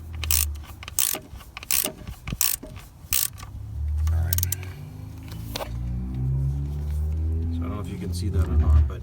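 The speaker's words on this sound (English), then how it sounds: "I'm most certainly going to try and use a ratchet" Ratchet wrench clicking in rapid bursts while working on a pulley of a 2003 Ford Mustang Cobra engine, close up, with someone talking over it.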